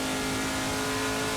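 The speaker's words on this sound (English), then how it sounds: "Tim Carroll really showing us how he's doing in that CRDMFG.com, PDIDiesel.com Chevrolet Camaro Team SLR M1" A Chevrolet Camaro Trans Am race car engine roars steadily at high revs during a race in Portland, a loud continuous engine drone with a strong sustained tone.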